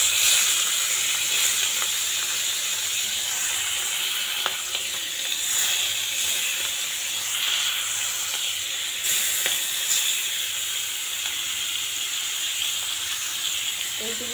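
Hilsa fish, rubbed with turmeric, frying in mustard oil in a wok, a steady bright sizzle and hiss that runs on without break throughout, with faint occasional crackles.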